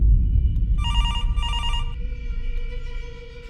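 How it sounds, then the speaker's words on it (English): A telephone bell rings in two short bursts over a low rumbling background, fairly close, then a faint lingering tone. "If a line rings with no caller"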